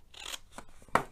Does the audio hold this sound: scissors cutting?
yes